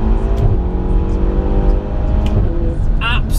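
Ferrari GTC4 Lusso T engine humming loudly from inside the car during a quick gear shift, a steady drone with a brief dip and change in pitch, with some faint clicks near the end.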